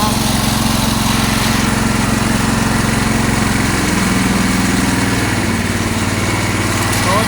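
A Cub Cadet 1650 garden tractor with a ported hydraulic pump runs at a loud, steady, close engine drone with a constant low throb, its pitch shifting slightly midway.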